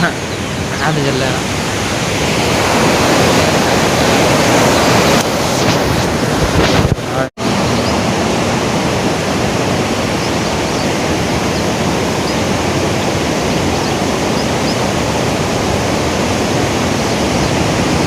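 Water rushes at Mayanur in a loud, unbroken roar that fills the whole stretch, with wind buffeting the microphone and one brief dropout partway through.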